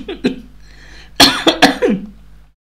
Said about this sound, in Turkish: Bir öksürük tuttu ya